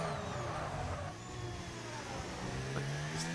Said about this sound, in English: Just hear him locking those brakes up. Those tires are squealing.